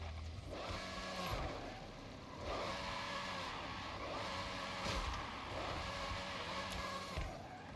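An Aston Martin Valkyrie AMR Pro in the racing game Forza Horizon gives a continuous engine drone with rising and falling revs, heard at moderate distance with a rumbling, slightly gritty tone.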